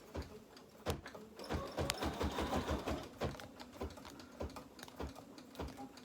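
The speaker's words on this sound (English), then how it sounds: "I'm going to just show you real quickly over here on my machine. It's stitching away." An embroidery machine stitching a Kimberbell Halloween design runs at a slow pace, giving a steady stream of rapid needle clicks and taps with occasional sharper knocks, close and fairly quiet with no talk over it.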